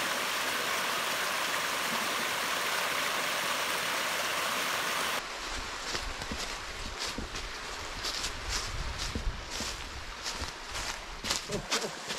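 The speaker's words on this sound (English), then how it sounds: "two creeks that kind of cascade down out of the hills and they run together" Two creeks cascade down out of forested hills and run together, a broad steady rush of water that cuts off partway, followed by quieter, uneven water and wind noise.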